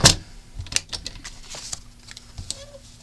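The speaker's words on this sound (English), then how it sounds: "I'm actually going to use this trimmer to trim everything up." A paper trimmer slices through leftover paper scraps, opening with a sharp close snap followed by a string of light clicks and scraping ticks. No one speaks.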